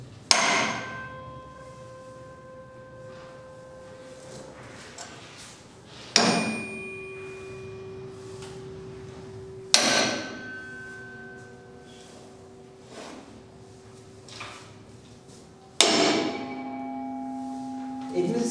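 Tuning forks of different sizes struck one at a time with a small hammer, four sharp metallic strikes spaced several seconds apart, each leaving a clear pure ringing tone that slowly fades, close and fairly loud.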